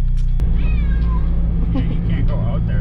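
A cat meows several times, drawn-out and fairly close, inside a 2022 Forest River Salem RV over a steady low engine hum.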